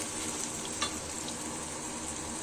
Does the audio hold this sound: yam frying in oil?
yes